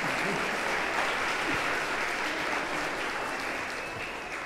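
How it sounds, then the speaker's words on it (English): An audience applauds performers at a summer music and dance institute event, a steady wash of many hands clapping from a mid distance that fades slightly toward the end. "You can clap for them."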